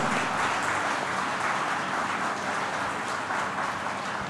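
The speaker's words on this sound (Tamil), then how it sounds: "எல்லாரும் ஒத்துனால பலத்த கரகோஷம் கொடுக்கும்." Audience applause at an anniversary celebration, a soft, fairly distant wash of many hands clapping that stays even and continuous throughout, with no voices over it.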